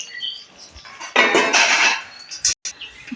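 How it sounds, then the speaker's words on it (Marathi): A lid is set onto a pan of eggplant simmering on low heat for besan vangi, making a short, close clatter of metal over about a second amid quiet kitchen background. "आपण याच्यावर झाकण ठेवणार आहोत"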